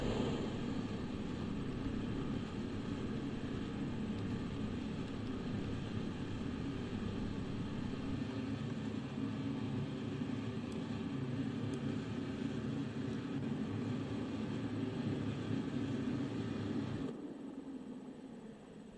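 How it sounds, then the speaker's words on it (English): Rocket engine launch in Kerbal Space Program, a steady, loud, broadband roar that holds for about seventeen seconds before dropping off and fading at the end. "SAS on, throttle to full, and we're flying in 3, 2, 1, fire."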